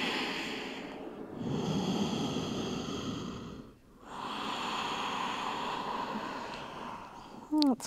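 Slow, deep yoga breaths, each a long soft airy inhale or exhale separated by a short pause, close and quiet, ending with a brief snort-like sound.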